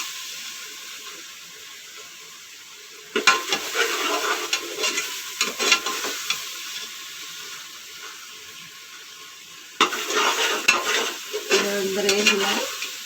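Ingredients for a mutton biryani fry in a hot pan, stirred in two bursts of scraping and clattering over a steady sizzle, with no one speaking.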